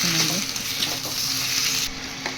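Tomatoes frying in oil for idli sambar, a steady close sizzle running throughout with a few soft stirring scrapes near the start and end.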